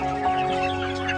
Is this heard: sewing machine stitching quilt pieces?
no